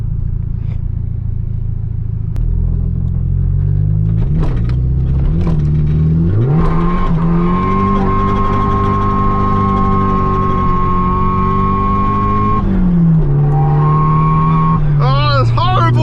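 A Nissan Sileighty engine under way from inside the car, a loud sustained drone that climbs and settles through revs, with gear changes and a steady rumble throughout.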